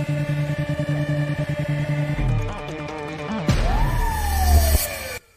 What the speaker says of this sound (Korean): 경찰 사이렌 소리를 듣게 되고.